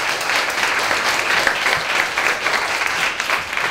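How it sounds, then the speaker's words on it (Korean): A seated audience at an arts and humanities concert-lecture gives loud, sustained applause after a talk, dense and even throughout without any voices. "다시 한번 큰 박수 부탁드립니다."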